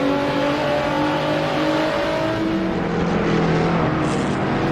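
Race cars in the Assetto Corsa sim at the Red Bull Ring drone loudly and continuously, several engine notes layered and shifting in pitch as cars run side by side down the main straight.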